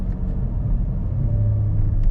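Car engine in an automatic car shifted manually down into fourth gear while coasting off the gas toward a stop sign, a steady low droning rumble from inside the cabin, fairly loud and continuous.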